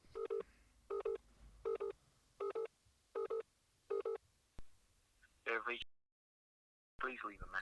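A phone call is dialed: eight evenly spaced touch-tone keypad beeps ring out clearly, followed by a short burst of a voice and then a brief gap of silence.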